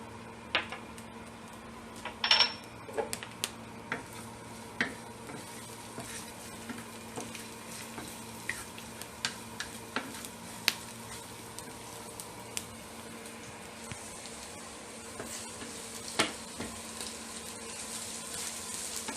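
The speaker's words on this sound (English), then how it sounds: "And then now it's time to put the garlic, minced garlic." Minced garlic frying in a pan for chicken adobo, a quiet steady sizzle running throughout with scattered light clicks and stirring taps, close but faint, no one speaking.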